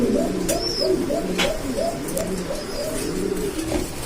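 Lahori and other fancy pigeons kept for sale coo in a close, repeating rhythm of soft throaty calls, with a few faint chirps from other birds in the background.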